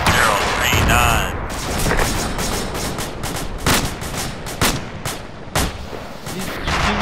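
Soldiers' rifle gunfire in the video game Arma 2 during a combat-skills training session: sustained crackling shots with several louder distinct reports, close and loud, while voices talk over the firing.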